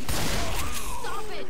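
In Left 4 Dead 2, game gunfire including a shotgun crackles in a dense, loud burst amid chaotic game noise, with player voices faintly mixed in.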